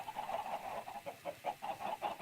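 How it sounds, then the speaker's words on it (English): Chickens cluck repeatedly in a farm video game, a steady run of short, close clucks with no talking. "I'm just getting triggered by all these chickens clucking."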